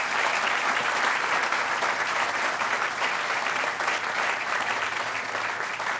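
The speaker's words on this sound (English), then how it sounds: "Let's give him another round of applause." A large audience claps steadily at an outdoor groundbreaking ceremony for a Hispanic heritage cultural institute, dense sustained applause filling the whole stretch without speech.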